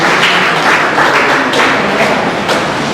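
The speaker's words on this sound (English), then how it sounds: "Please round up applause for him" An audience at an afternoon gathering gives a speaker a round of applause: dense, steady clapping from many hands that fills the whole moment, with no voices over it.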